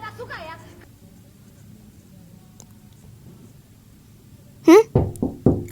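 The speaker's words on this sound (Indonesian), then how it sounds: "Kok ada yang ngetok pintu?" Someone knocks on a door in an Indonesian horror story, three or four sharp, close raps coming at the end after a quiet stretch. A brief voice is heard at the start.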